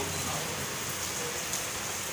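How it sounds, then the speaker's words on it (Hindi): Rain falling outside during a monsoon shower, a steady, even hiss of drops on surfaces, continuous and close, with no voices. "देखो बाहर बारिश आ रही है,"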